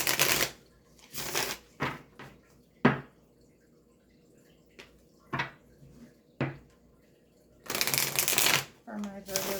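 Oracle cards being shuffled in bursts of riffling flutter, with scattered taps and card snaps between, close and fairly soft, with a longer dense riffle near the end.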